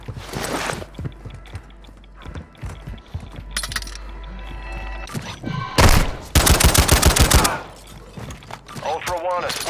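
Gunfire in a Call of Duty video game: scattered shots and mechanical clatter lead into a loud, close automatic burst, with radio-style voice lines speaking throughout.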